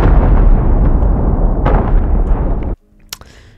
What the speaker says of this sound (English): Yeah, it's a big explosion.